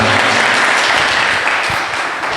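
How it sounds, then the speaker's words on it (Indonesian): Dense, steady applause from a gathered audience at an Islamic boarding school event, loud and continuous throughout the short moment. "Tepuk tangan."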